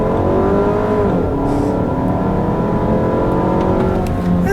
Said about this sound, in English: I'll leave you guys with a nice little acceleration here and the Jetta